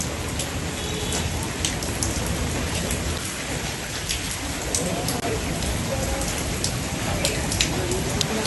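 Rain pours steadily during flooding on waterlogged roads, a constant close patter of drops on surfaces with a low rumble underneath and no clear voices.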